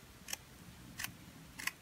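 Scissors cut a paper snowflake die cut in half, giving three faint, crisp snips evenly spaced over about two seconds in a quiet room.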